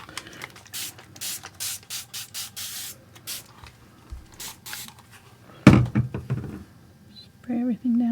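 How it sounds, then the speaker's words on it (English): A spray bottle mists an acrylic painting of a baby raccoon with a quick run of short hissing squirts, about a dozen in steady rhythm. Then a clatter follows and a voice speaks. "Spray everything down a little bit."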